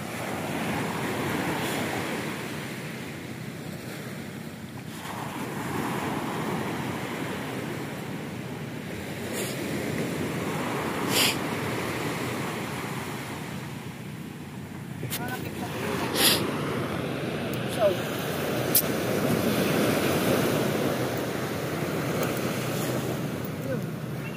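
A steady flowing water current rushes continuously at moderate loudness, mixed with wind buffeting, while people talk over it.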